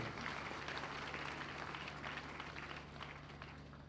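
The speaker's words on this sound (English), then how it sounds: "A round of applause for her." Audience applause at an inaugural lecture, a steady wash of clapping from a large crowd that holds evenly throughout, somewhat distant and moderately quiet, with a faint low hum beneath.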